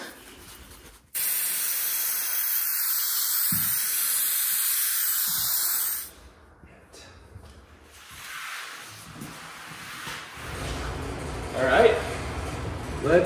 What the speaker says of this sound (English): So we're gonna spray glue that down